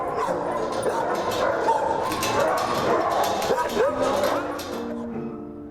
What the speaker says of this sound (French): C'est un chat qui entend les chiens japper à côté